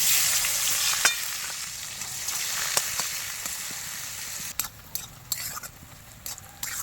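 Onions frying in hot oil for a fish curry, a loud continuous sizzle with stirring and utensil clinks, easing into quieter crackles broken by sharp scraping taps near the end.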